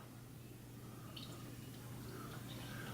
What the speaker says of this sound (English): Go ahead and give it a pour.